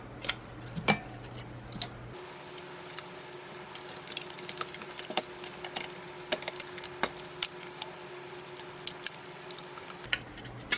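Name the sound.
cutting leather with scissors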